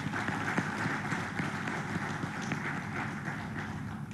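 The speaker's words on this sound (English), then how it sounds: "I think they deserve a big round of applause" A crowd applauds the Bharat Serum team at the opening of a new facility in Hyderabad. The clapping is dense and continuous and sounds fairly distant.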